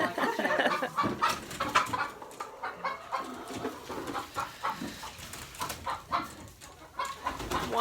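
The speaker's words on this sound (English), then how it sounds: "they get really, really noisy. I don't know what they're chattering about" A flock of chickens chatters and clucks continuously, with overlapping calls and occasional sharper squawks standing out, no voices.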